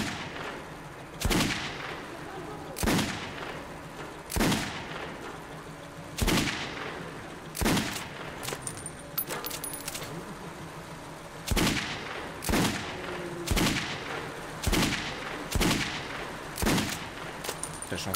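Gunfire in the PC shooter Metro 2033 Redux: sharp, loud shots fired at a steady pace of roughly one every one to one and a half seconds, each a broadband crack over a low, rumbling ambient backdrop, with no talking.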